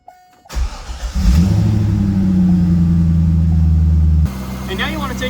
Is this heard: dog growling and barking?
no